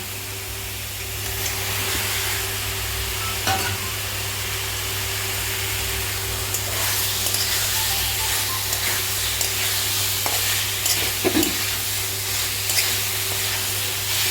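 Cauliflower and potatoes go into hot oil with frying spices for a gobhi aloo sabji, giving a steady sizzle under a low hum, with scraping stirs and clinks of a spoon against the pan.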